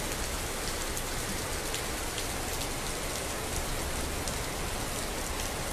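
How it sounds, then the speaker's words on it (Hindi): Heavy rain pours steadily over a green park in Faridabad, a dense, even hiss of drops on surfaces that stays loud and unbroken throughout, with no voices. "अच्छी खासी बढ़िया बारिश हो रही है, पार्क में देखिए कितना बढ़िया माहौल है"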